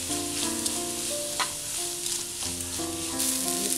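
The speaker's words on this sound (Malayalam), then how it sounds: "അതിപ്പോൾ നല്ല സവാളയൊക്കെ നന്നായിട്ട് വഴന്നു വരുന്നുണ്ട് കേട്ടോ" Onions sautéing with salt in a pan for a mutton dish crackle in a continuous, close sizzle with stirring, over soft background music.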